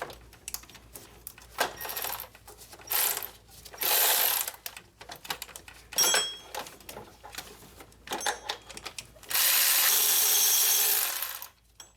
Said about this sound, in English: the next step is going to be undoing the power steering pump bolts